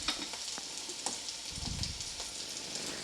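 Half a teaspoon of garlic paste sizzling in hot oil in a pan, a close, even hiss with a few light stirring taps and a brief low rumble partway through.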